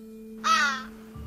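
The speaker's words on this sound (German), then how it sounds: "Ein Rabe, er ist wieder da." A raven caws once, a loud harsh croak close by over a steady low hum in a radio-drama scene.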